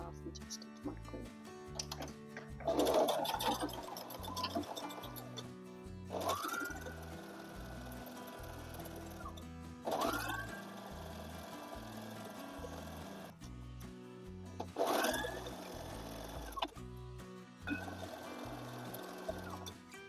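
A domestic sewing machine stitching fabric for a long gown runs in several bursts of rapid mechanical whirring, separated by pauses with handling noise, and a voice talks at times between them.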